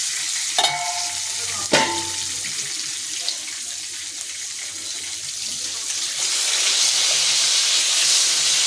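Pieces of boal fish fry in a pan on a gas stove, a steady bright sizzle throughout, broken early by two sharp clatters of the lid, then swelling louder toward the end.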